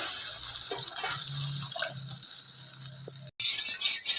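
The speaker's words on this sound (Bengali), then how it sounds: "মশলাটা দিয়ে এবার ভালোভাবে একটু মিক্স করে নেওয়া হচ্ছে যতক্ষণ না মশলা থেকে তেল ছেড়ে আসে দিয়ে দেওয়া হচ্ছে এর মধ্যে এবার একটু জল" Water poured into spice paste frying in a pan for Bhola fish curry, giving a steady, close, loud gushing hiss over crackling sizzle that cuts out briefly near the end and then returns.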